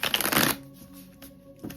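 A quick burst of tarot cards being shuffled, close and crisp, followed by faint light handling sounds and a brief rustle at the end.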